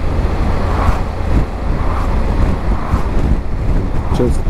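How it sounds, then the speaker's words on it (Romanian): Strong wind buffets the microphone in a continuous rough roar, with a faint voice underneath. "Bate vântul tare."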